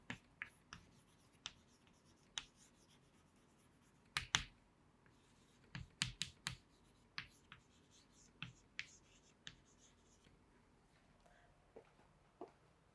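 Pen or marker writing by hand during a chemistry lesson on metals, heard as sparse, sharp taps and short scratchy strokes at irregular intervals, close and quiet with no talk.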